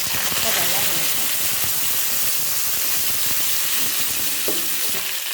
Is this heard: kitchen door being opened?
no